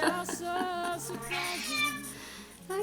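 A kitten meows in a short series of rising and falling cries, fairly close and clear, with a few soft voiced tones mixed in.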